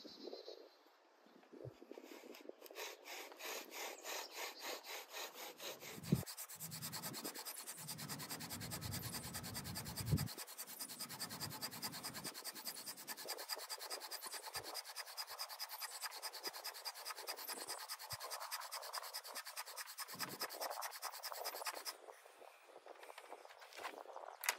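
Yucca bow drill spinning against wood to make a fire ember, giving a continuous close rasping, scraping friction with rapid rhythmic strokes that persist steadily for over twenty seconds.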